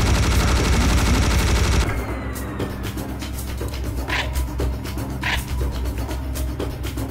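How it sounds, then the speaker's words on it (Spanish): Sustained loud machine gun fire from the Serious Sam HD video game, a rapid continuous burst that stops after about two seconds, followed by game ambience with scattered impacts and effects. "A ponernos ametralladora"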